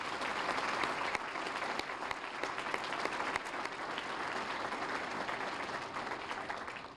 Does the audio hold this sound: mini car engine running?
no